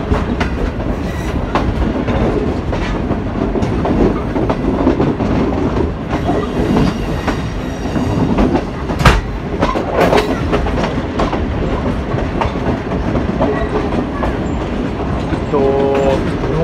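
Millat Express passenger train with CRRC Tangshan coaches rolls past a station, loud continuous rumble with rhythmic clickety-clack of wheels over rail joints and a short squeal near the end.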